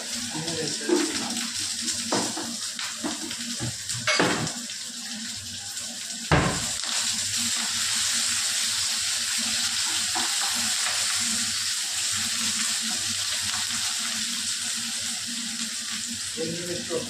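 Garlic, onion, curry leaves and coriander sizzle steadily in hot frying oil with occasional stirring clinks, a continuous close crackle running throughout.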